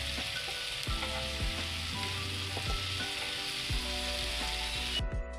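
Steady sizzling of onion and tomato frying in a pan, with repeated scraping and stirring strokes, close and continuous until a brief drop at the end.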